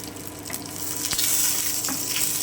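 Dried red chillies and mustard seeds hit hot oil on low heat for a radish chutney, crackling and hissing steadily, swelling in loudness with scattered pops close up.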